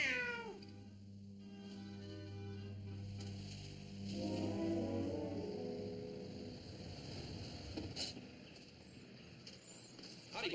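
A cat meows several times, a drawn-out wailing cry in a quiet room, fairly close, with no talk over it.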